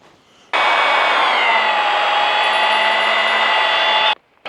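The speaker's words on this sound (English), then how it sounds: "we've got a hole cutter here, and you can see the serrated tungsten carbide teeth on it" Tungsten carbide-toothed hole cutter boring through stainless steel plate for a fabricated frame, a loud steady high-pitched grinding whine with ringing metallic overtones that runs continuously for about three and a half seconds, then stops abruptly.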